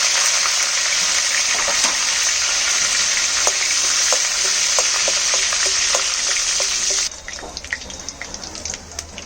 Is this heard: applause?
no